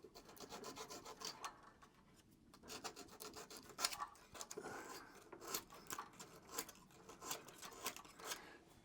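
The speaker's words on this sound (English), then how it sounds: "Bit of sandpaper, wire brush," Small coil mounting posts on a Briggs lawnmower engine scrubbed with sandpaper and a wire brush: quiet, close, rhythmic rasping strokes in quick repeated bursts, no talking.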